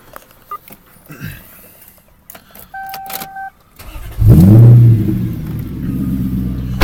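A Lexus LS400 sedan idles quietly with a few small clicks and rattles, then its engine starts with a loud rising rev and settles into a steady, close running rumble.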